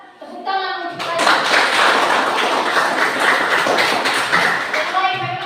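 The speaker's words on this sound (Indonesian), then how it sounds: "Tepuk tangan untuk saya." A classroom of students claps together in a loud, dense burst of applause lasting several seconds, with children's voices mixed in before and after.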